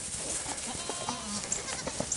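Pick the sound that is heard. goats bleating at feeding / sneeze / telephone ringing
goats bleating at feeding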